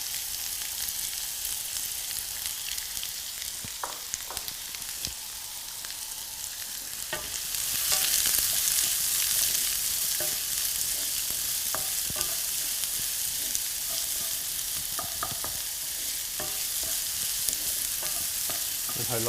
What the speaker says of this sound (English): So now just add the onions to it.